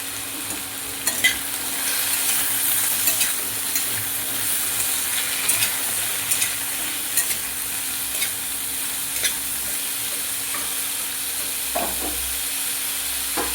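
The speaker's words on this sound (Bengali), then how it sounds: "আলু ভাজার সময় আমি এতে সামান্য নুন আর হলুদ দিয়ে দিচ্ছি।" Potatoes frying in a pan, seasoned with salt and turmeric, give a steady close sizzle broken by repeated stirring scrapes and clicks, with no voices.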